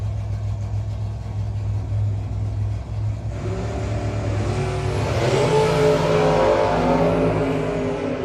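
A Pro Torque drag race car at a no-box 660 shootout idles with a loud, steady low rumble, then revs up and launches, its engine note climbing as it pulls away down the racetrack, loud and continuous without talk.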